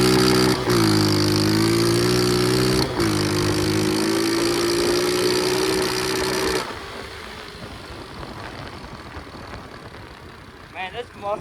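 A pit bike engine buzzing loudly and steadily at close range while riding, pitch rising slightly, then dropping to a quieter, rougher running sound as a rider talks over it.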